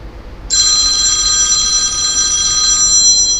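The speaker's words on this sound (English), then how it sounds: "Phones are ringing off the wall." A telephone bell rings loudly and steadily, starting abruptly and sustaining a bright metallic trill for about three seconds with no talking over it.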